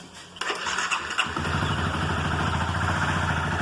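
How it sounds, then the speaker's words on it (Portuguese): A motorcycle engine starts and settles into a steady running rattle, close and fairly loud, with a faint mechanical clatter from a noisy timing chain in the idle. "ela está fazendo barulho de corrente de comando"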